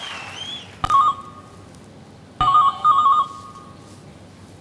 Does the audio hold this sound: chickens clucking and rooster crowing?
no